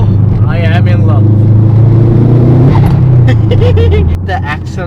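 Modified Subaru WRX build accelerating hard, a loud close engine drone rising in pitch through the pull with a brief shift dip, under excited talk from inside the car.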